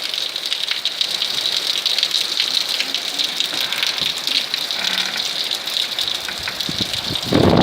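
Heavy rain pours down in a downpour in Sadr City, a dense, steady hiss of drops drumming on surfaces, loud and unbroken throughout, with a brief rattle near the end.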